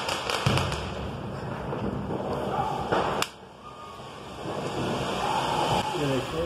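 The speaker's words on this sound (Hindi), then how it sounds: "लोकल पटाखे आ रहे हैं आजकल" Local Diwali firecrackers burst outdoors in Bangalore, several sharp cracks and pops in the first seconds with one louder bang near the middle, then quieter ambient noise and distant crackling.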